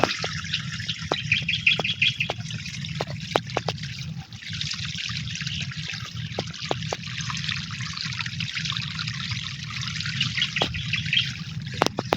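Water trickles steadily from a hose or can while calamansi plants are watered, with sharp drips and small splashes throughout and birds calling faintly in the background.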